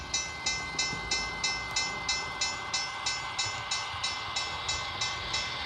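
A model train rolls along a layout with a steady, rapid clickety-clack of wheels over rail joints, even and continuous at close range, over a faint mechanical hum, with no talk.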